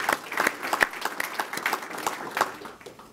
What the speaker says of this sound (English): And also to Mr. Hollow, let's give him a round of applause for his participation as well.